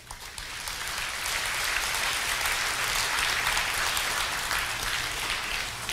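Sustained applause from a large audience welcoming guests at a Buddhist fire puja ceremony, a dense, steady wash of many hands clapping at even loudness throughout, with no voices over it.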